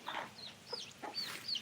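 A chicken clucks several times in short bursts, close by and fairly clear, with no talking over it.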